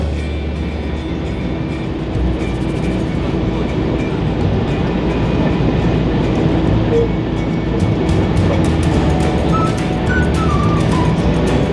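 A train rumbles steadily past at speed through Inazawa Station in Japan, loud and close, with a continuous low roar and rhythmic clattering that picks up toward the end.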